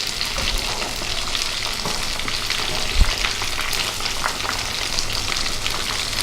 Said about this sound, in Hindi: अब इसका हम वेट करेंगे ताकि ये फ्राई हो जाए।